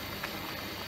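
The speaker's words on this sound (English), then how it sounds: "So we've got everything simmering at the moment" Big pot of soup with carrots, potatoes, onions, celery, turnip, swede, pearl barley, lentils, peas and ham simmering, a dense close bubbling and patter filling a short moment.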